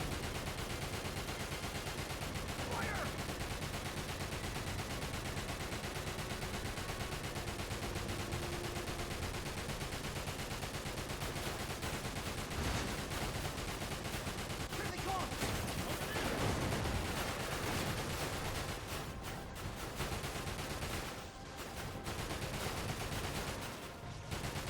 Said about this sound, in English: they'll keep shooting at them even though they're destroyed already